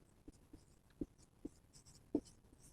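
Faint writing strokes scratch and tap in a handful of short, irregular bursts against a quiet room, with no talking.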